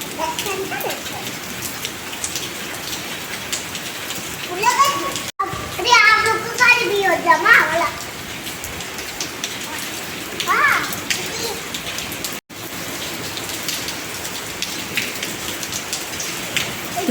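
Steady rain patters on a surface throughout, while children shout and play nearby partway through and adult voices speak over the downpour.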